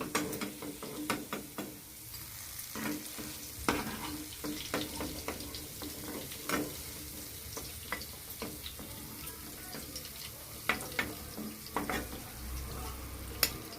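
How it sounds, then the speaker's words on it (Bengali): Chopped onions sizzle steadily in oil after frying paneer, with scattered clinks and scrapes of a utensil stirring in a pan, close and continuous throughout. "তেলের মধ্যে দিয়ে দিচ্ছি পেঁয়াজ কুচি"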